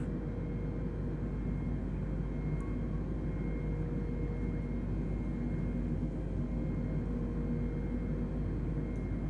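An Airbus A320 takes off in Microsoft Flight Simulator on a Bucharest to Sofia flight. A faint, steady jet engine drone holds without any break, with no voices.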